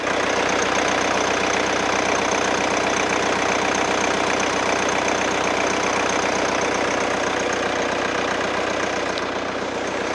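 A diesel engine in a 2018 Hyundai All New Tucson SUV with about 50,000 km idles steadily and smoothly with the hood open, a continuous even hum with a fine rapid clatter, close and alone.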